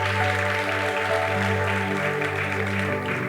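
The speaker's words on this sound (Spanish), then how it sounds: "Dale un fuerte aplauso al Señor." A church congregation applauds the Lord in a steady wash of clapping over sustained music, continuous and fairly even throughout.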